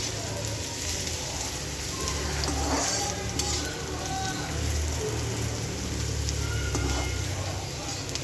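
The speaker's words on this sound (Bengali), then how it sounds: "লাউয়ের খোসা ভাজা" Bottle gourd peels fry in a pan, making a continuous close sizzle while a utensil stirs and scrapes through them.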